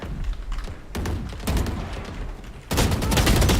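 Dense, loud automatic gunfire from Valorant rattles in repeated bursts with heavy thumping impacts, the firing swelling to its loudest near the end with barely any voice.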